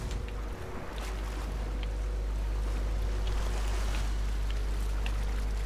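A ship sails across open water in Sea of Thieves, a steady low rumble of hull and sea with soft splashes and faint creaks, constant and unbroken throughout.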